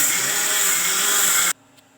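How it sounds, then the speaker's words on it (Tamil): A grinder churns soaked rice, left in water three hours, into smooth batter with salt: a loud, steady whirring grind that cuts off abruptly, leaving near silence. "மூணு மணி நேரம் ஊற வச்சு இப்போ அரைக்க போறதுனால நைஸா அரைச்சுக்கணும்"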